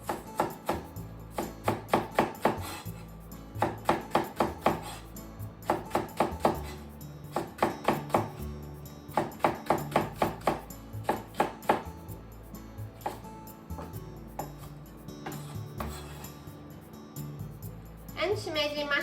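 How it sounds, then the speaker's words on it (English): A knife cuts Japanese leek into thin diagonal slices on a cutting board, making rapid rhythmic chopping taps in repeated bursts, close up, with a voice speaking over them at times. "So Japanese leek. Just make thin diagonal slices."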